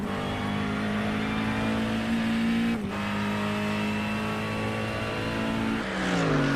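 NASCAR-style race cars roar loudly past at close range, one sustained high-revving engine drone with a brief break and a falling pitch as a car sweeps by.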